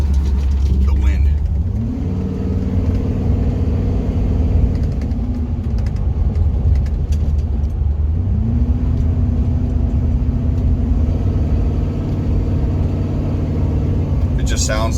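A 2001 Ford F-250 4x4 pickup's 5.4 V8 with the muffler removed rumbles loudly at close range, its deep exhaust note rising and settling twice as it revs, with a steady road drone throughout.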